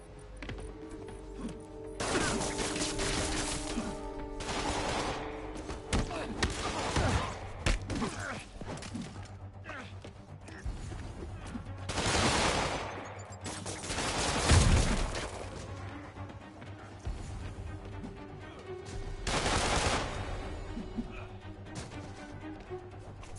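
Combat rages in a Spider-Man video game, with repeated bursts of gunfire, crashes and heavy impacts rising and falling in loud clusters over a steady background hum, with little talk.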